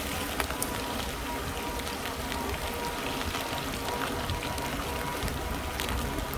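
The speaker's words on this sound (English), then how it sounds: "Wind blowing, knocking that rain" Rain shaken by wind off trees falls in a steady, dense patter outdoors, a continuous hiss with scattered louder drips, with no voices.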